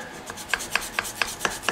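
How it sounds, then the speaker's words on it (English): Rhythmic rasping strokes of a 3D-printed sanding block on a Martin HD-28 guitar during repair, about six even passes at a steady pace, close by with no voices. "The little sanding block that that fella made for me with the 3D printing sure does work well."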